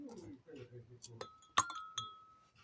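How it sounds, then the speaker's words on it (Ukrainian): Ice cubes clink into two glasses, one of cold water and one of warm, with a sharp ringing glass tap and a sustained tone, after quiet speech at the start. "Одночасно кладемо у склянки кубики льоду"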